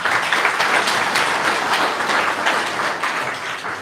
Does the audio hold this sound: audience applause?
yes